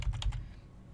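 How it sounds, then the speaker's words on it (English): Computer keyboard arrow keys being pressed while nudging a shape in Tinkercad, about four quick close clicks in a short burst, then quiet. "I'm going to push it back with the arrow keys."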